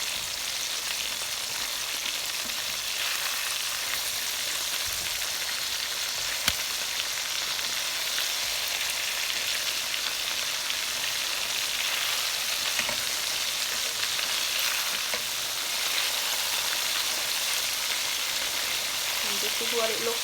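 Steady, dense sizzling of Jamaican fried chicken frying in hot oil, a continuous crackle at even loudness with occasional faint pops and clinks.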